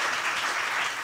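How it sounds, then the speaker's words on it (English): Dense audience applause at a conference closing speech, a steady wash of many hands clapping together at close range for about a second. "big applause for her as well"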